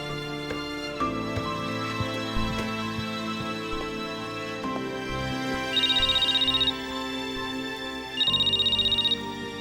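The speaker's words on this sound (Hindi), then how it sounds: "एक मिनट बाबू, गैलरी से फोन आ रहा है।" An incoming phone call rings in short bursts of bright electronic ringtone over a steady bed of background music, two clear ring phrases near the end.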